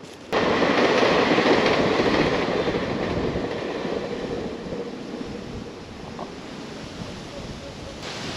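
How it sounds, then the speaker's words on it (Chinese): A train rolls past on the railway beside a forest park lookout in Hukou, arriving abruptly as a loud, steady rumbling roar with faint rhythmic clatter that slowly eases but keeps going to the end. "站在这里随时就可以看到火车从前面经过"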